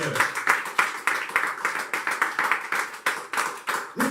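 A church congregation at a Sunday service clapping in a steady rhythm of sharp, even beats, about two per second, with faint voices underneath.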